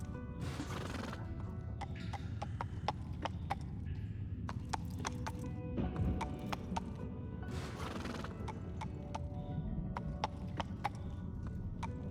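A horse's hooves clop in a steady, even rhythm at close range, with loud whinnies breaking in twice over the continuous footfalls.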